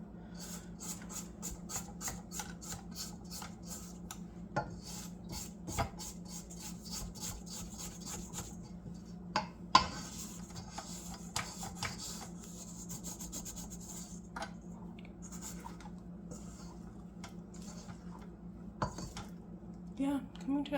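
A spatula scraping the sides of a mixing bowl of gluten-free bread mix, soft intermittent rubbing and scraping strokes with occasional light knocks, faint and close, steady low hum underneath.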